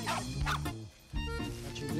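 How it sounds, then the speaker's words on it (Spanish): Several dogs barking and yipping in short bursts close by, with a brief pause mid-way, alongside faint voices. "Aquí está, mira, los perros."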